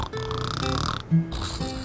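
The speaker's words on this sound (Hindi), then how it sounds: "आपको सिर्फ दो तरह के खर्राटे पता होंगे," A loud, rasping snore rattles in short throaty bursts, with a voice present around it in a comic household setting.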